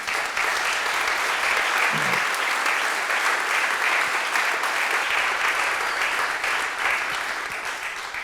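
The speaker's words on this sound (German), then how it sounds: "Ich finde, das ist schon mal einen großen Applaus wert" Sustained audience applause at an ocean award ceremony, a dense, even wash of many hands clapping that holds steady throughout with no talk over it.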